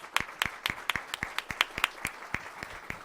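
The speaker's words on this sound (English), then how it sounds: "Let's give him an applause." Sparse, slightly uneven clapping from a small lecture audience after a university talk, a dozen or so distinct claps spread over three seconds, moderately close with no voices.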